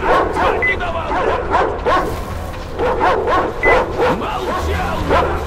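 Small puppy yipping and whimpering in the video game Metro Exodus, a run of short high yelps and whines repeating across the clip, close and fairly loud, mixed with other game sounds and some voice.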